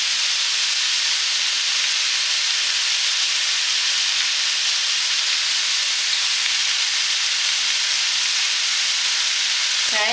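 Two packets of Asian noodles fry in a hot pan with a steady, loud, hissing sizzle that holds unbroken throughout.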